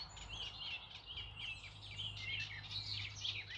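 Several songbirds, a garden warbler among them, sing continuously from a bush close by, their bright overlapping warbles and chirps steady and fairly loud over a low rumble of background noise.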